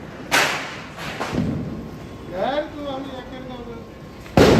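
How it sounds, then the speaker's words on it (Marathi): Several Diwali firecracker blasts go off at irregular intervals with outdoor echo on a rainy Lakshmi Puja night, and a brief voice is heard between them; the last bang is loud and close. "इकडे फटाके चालू आहेत"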